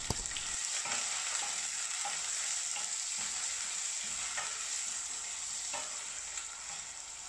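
Onions frying in a pan with a steady, dense sizzle throughout, punctuated by repeated scraping strokes as they are stirred, close and loud with no voices.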